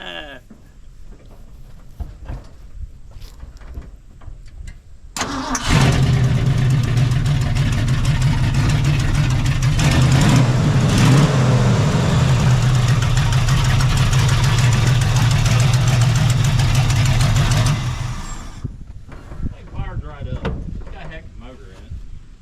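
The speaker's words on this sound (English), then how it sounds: "Here, I can start this thing up. It's loud. It needs muffler." An old truck engine without a muffler starts up and idles loud and raw for about twelve seconds, then cuts off, with quieter handling noise before and after.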